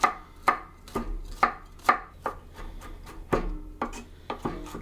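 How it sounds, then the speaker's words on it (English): About seven garlic cloves chopped with a knife on a cutting board, a series of crisp, close knocks in an uneven rhythm, roughly a dozen strikes with quieter rubbing between them. "Always cut off that little bulb at the end and just chop it up"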